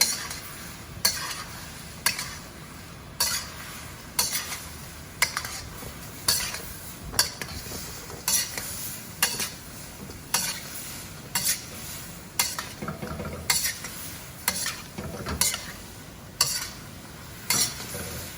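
Chicken being tossed in melted butter in a pan, giving a steady sizzle broken by regular scraping and clattering strokes of a utensil about once a second, close and fairly loud with no talk.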